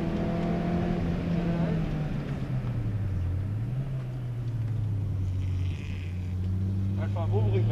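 A Peugeot 206 GTI rally car engine runs close by with a deep, steady rumble that rises and falls in pitch as it is revved, with faint voices in the background.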